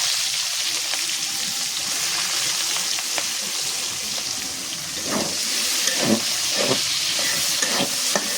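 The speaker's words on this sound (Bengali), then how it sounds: "মুরগি ভাজার তেলের মধ্যে দিয়ে দিতেছি পেঁয়াজ কুচি" Chopped onions fry in oil left from frying chicken, with a constant close hissing sizzle and a few louder crackles and stirring scrapes near the end.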